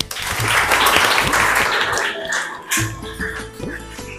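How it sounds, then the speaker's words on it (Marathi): Scattered clapping from a small group at a school quiz competition, with uneven, sparse claps rather than a full roar, fading into a few separate claps and faint background murmur. "आयांसाठी टाळ्या."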